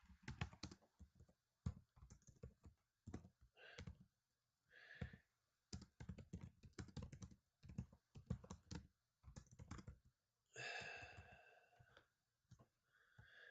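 Someone types on a computer keyboard in close, irregular bursts of clicky keystrokes, pausing between runs, with occasional louder key clacks and no talk.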